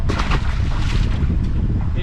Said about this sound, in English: this wind just picked up all of a sudden